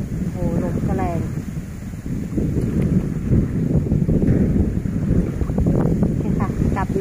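Strong wind roars over flooded rice fields, a steady loud rush with microphone buffeting, while someone speaks over it throughout.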